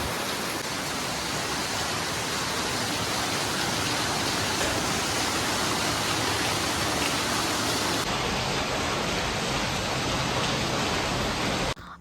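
Heavy rain falling just after arriving at a gym, a dense, loud, continuous hiss of downpour with no break and no voices.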